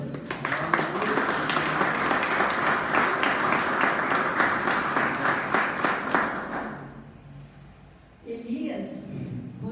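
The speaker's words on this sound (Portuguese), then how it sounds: "Então aplauda o Senhor." A church congregation at a Portuguese-language evening service claps together, a loud and dense wash of applause running about six seconds, mixed with voices, before fading out; a voice resumes briefly afterward.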